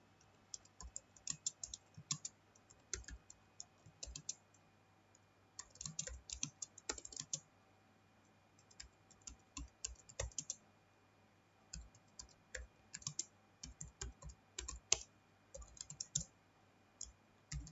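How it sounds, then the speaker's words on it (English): Typing on a computer keyboard while entering an HTML program, with quick irregular bursts of close key clicks broken by short pauses, steady throughout and with no talking. "now we'll type the program"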